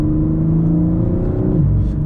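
A 2021-2023 BMW M4 Competition coupe engine revs with its exhaust valve open, giving a loud, continuous, beefy drone that rises and then dips near the end, close up with no talk.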